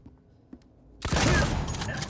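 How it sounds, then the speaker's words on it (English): A shotgun blasts in the sci-fi horror game Alien: Isolation, a sudden loud burst after a quiet, tense moment, followed by a sustained roaring, crackling wash of sound. "I have a shotgun."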